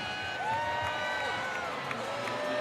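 Baseball stadium crowd at a night game, a broad, steady wash of cheering and murmur with scattered whistles rising through it, moderately loud and continuous.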